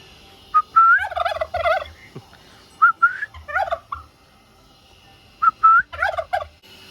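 A domestic turkey gobbles three times at a farm during a Mattu Pongal celebration. Each gobble answers a sharp human whistle, and the loud, close, rattling calls repeat at a steady interval.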